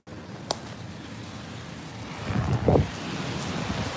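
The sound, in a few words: wind blowing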